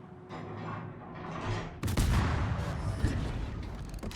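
Naval gunfire from the cruiser Groningen in World of Warships, with a faint mechanical rumble giving way to a loud, sustained barrage of booming salvos and crackling blasts.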